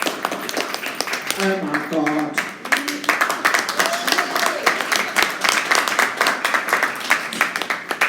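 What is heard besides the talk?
round of applause from audience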